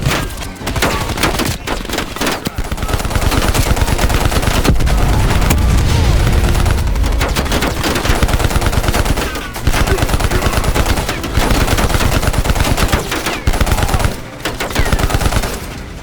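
Sustained automatic gunfire from Call of Duty: Black Ops Cold War roars loud and near in long rapid bursts, split by brief pauses, with booming impacts mixed in as a chaotic firefight.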